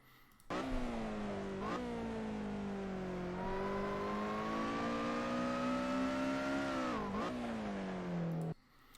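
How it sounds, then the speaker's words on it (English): Lotus Elise SC in Assetto Corsa racing at Silverstone, its engine droning steadily under throttle with a brief dip and pitch drop as it upshifts into third gear, then a second shift break near the end before the sound cuts off. "He upshifted in this small section into third gear."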